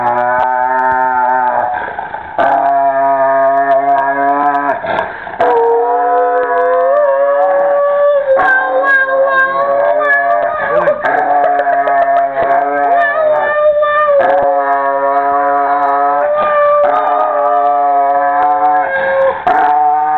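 A dog howls loudly and close up in long, wavering, rising and falling tones, repeated in several drawn-out bouts with brief pauses between them.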